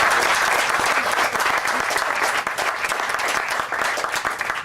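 A crowd at a ballpark ceremony applauds a baseball player, dense sustained clapping that stays loud and even for several seconds.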